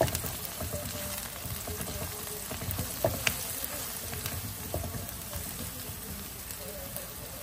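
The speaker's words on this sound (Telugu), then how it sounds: "పచ్చిమిరపకాయలు, కొబ్బరి, కొంచెం నువ్వులు రుబ్బుకున్న పేస్ట్ ఇప్పుడు ఈ ఉల్లిపాయ ముక్కల్లో వేస్తున్నాను చూడండి. ఒకసారి శుభ్రంగా కలుపుదాం." Onions fry in a pan as a paste of green chili, coconut and sesame is stirred in for a broad bean coconut curry, producing a soft, continuous crackling sizzle with occasional utensil taps.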